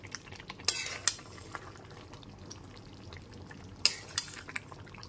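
Goat meat sautéing in a pan, with a soft background sizzle and a few sharp scrapes and clinks from stirring, two louder bursts standing out against quiet frying.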